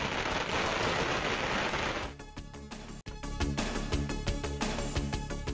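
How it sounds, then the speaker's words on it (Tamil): Supporters set off strings of firecrackers at a street celebration in Karur, a dense rapid crackle of bursts that runs on continuously, then a short gap and another loud volley of popping reports, with no voices. "ஆதரவாளர்கள் பட்டாசு வெடித்து கொண்டாட்டம்"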